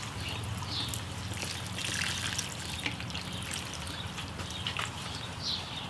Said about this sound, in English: I really like to soak them the first time I water them in, so I get water in all the little soil pockets.